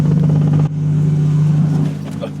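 A BMW S52-swapped E36 engine drones loudly up close, dips for a moment, then rises again in a strong, rumbling rev.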